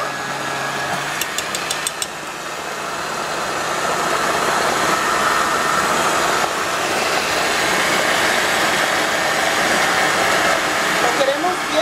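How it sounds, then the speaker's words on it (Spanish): Blender grinding ingredients for green spaghetti sauce, a steady loud motor whir running close and continuous throughout after a brief quieter start. "Estamos, amigas, queriendo moler todo esto."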